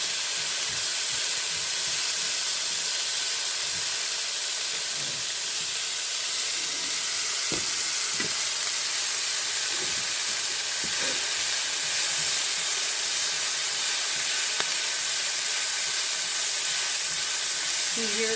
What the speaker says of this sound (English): Kind of roasting and sauteing the peppers and onion and the garlic.